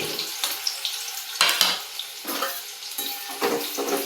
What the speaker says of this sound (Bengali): পেঁয়াজ ভাজা চলুক,